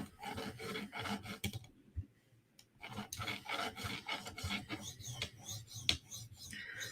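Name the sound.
knife being sharpened on a whetstone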